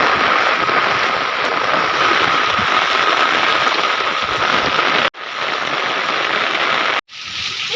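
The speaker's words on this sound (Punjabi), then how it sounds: "ਇੱਥੋਂ ਤੱਕ ਮੀਂਹ ਪੈ ਗਿਆ" Heavy rain pours steadily in a dense, loud roar, cutting out briefly twice before resuming.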